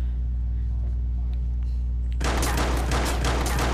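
Shotgun fire in the game Watch Dogs bursts in suddenly over a steady low engine-like hum, a loud run of close shots continuing to the end.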